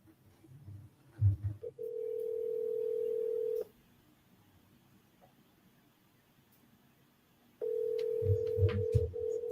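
A telephone tone during an outbound sales call sounds as a steady, loud tone lasting about two seconds, then a quiet gap, then the tone returning. Low, soft thumps and handling noise come before each tone.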